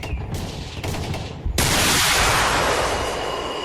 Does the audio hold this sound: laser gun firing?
yes